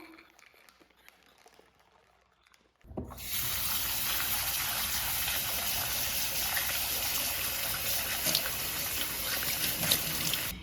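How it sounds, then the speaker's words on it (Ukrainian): Tap water suddenly turns on and runs steadily into a sink, a close continuous gushing splash with slight fluctuations as raisins are rinsed. "нам треба помити родзинки проточною водою."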